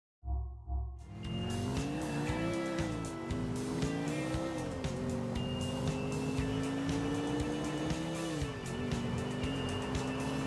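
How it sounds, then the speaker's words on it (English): Motor engine of a motocross bike ridden in Grand Theft Auto IV, a loud steady droning whine that rises and falls in pitch with the throttle, joined by tire-squeal tones, continuous throughout with no talking. "it's a motocross bike apparently"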